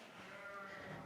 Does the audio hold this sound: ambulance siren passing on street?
no